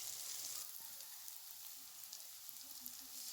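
Soybean chunks and potato frying in a pan of oil, a soft steady sizzle that crackles faintly throughout, close and low in level with no voices.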